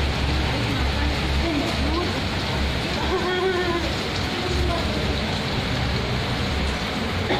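Rain falling at Waduk Darma reservoir in Kuningan, West Java, a constant broadband hiss that stays even and fairly loud throughout, with faint voices and other sounds mixed underneath.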